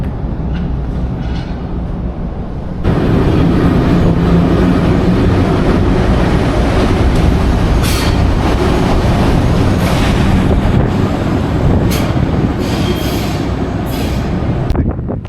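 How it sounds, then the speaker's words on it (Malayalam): An old goods train rumbles past close by in Georgia, a heavy continuous roar of rattling wagons with occasional sharp metallic clanks and squeals. "അതേപോലെ ഇതുപോലെ പഴയ ട്രെയിനുകളുമുണ്ട്"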